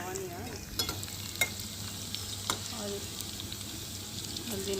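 Onion, tomato and chillies frying in a pan on an outdoor clay stove, giving a steady soft sizzle with a few sharp clicks of stirring, recorded outdoors at a low level.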